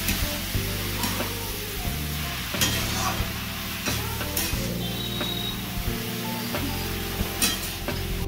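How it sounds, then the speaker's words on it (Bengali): Spices stirred through bottle gourd and prawns frying in a pan, with steady sizzling and repeated scraping stirs at a close, even pace, no voices. "মশলাটা ভালো করে মিশে নিতে হবে"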